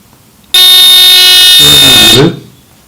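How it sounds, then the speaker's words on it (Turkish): A loud, harsh electronic burglar alarm tone blares from a speaker on a homemade alarm circuit for about a second and a half, shifting pitch briefly before cutting off abruptly. "Bunu bir hırsız alarm devresi olarak düşündük."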